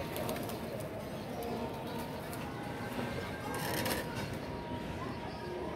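Pigeons coo at a loft amid steady, dense background noise, their soft calls blending into a constant rushing hiss with no clear gaps.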